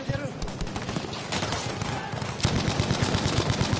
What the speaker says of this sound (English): Oh my goodness, I'm just shooting through the smoke.